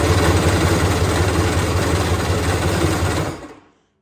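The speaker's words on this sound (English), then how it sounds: "I'm gonna go ahead and push the start button and then actuate it." The engine of a 1995 Polaris SL750 jet ski turns over with a loud, steady mechanical whir and buzz for about three seconds, then cuts off abruptly into silence.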